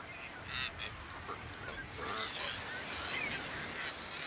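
Colony of Cape cormorants giving honking, goose-like calls, many birds overlapping in a busy, moderately distant chorus with no talking.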